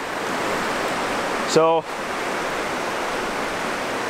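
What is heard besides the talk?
waterfall on a shallow river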